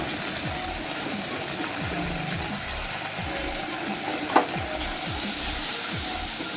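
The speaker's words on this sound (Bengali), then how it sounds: "হলুদ আর জিরেটা খুব ভালো মতো ভাজা হয়ে গেছে।" Turmeric powder and cumin fry in a pan for an okra curry with a loud, continuous sizzle. Repeated stirring scrapes cut through it, and the hiss swells toward the end. No talk is heard.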